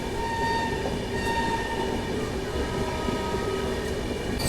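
The Sapt Kranti Express running on the line from Anand Vihar to Muzaffarpur, giving a steady, loud, continuous rumble of wheels and carriages with faint tonal hums throughout, heard from on board.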